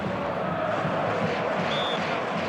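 A large stadium crowd at Estadio Morumbis ahead of a football match, a steady, dense roar of many voices with no single cheer standing out.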